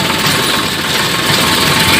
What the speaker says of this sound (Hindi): और अब हम ट्रैक्टर ट्रॉली में बैठ चुके हैं, धीरे धीरे घर की तरफ